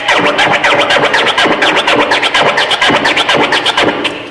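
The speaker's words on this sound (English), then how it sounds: "a flare, would sound like this." Rapid DJ flare scratching on a turntable: a dense, loud, continuous run of choppy record cuts with fast, evenly chopped rhythm, heard alone without talk.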